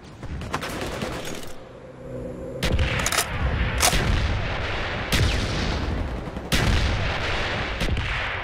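Artillery strike barrage in Call of Duty Black Ops, a rapid series of loud booming blasts and rumbling impacts that overlap into a continuous roar across the clip.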